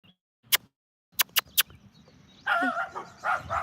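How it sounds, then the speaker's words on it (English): A dog barks at its owner outdoors, giving one sharp bark and then a quick burst of three, close and loud, before a person starts talking. "You're barking at your owner."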